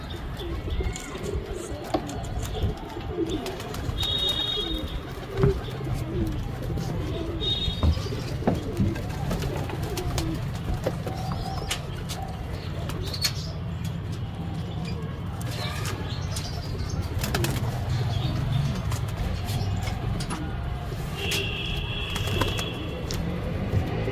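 A pigeon, a newly caught highflyer with its wings freed from tape, gives low soft coos amid outdoor background noise, with occasional brief flaps and faint chirps from other birds over a continuous ambient din.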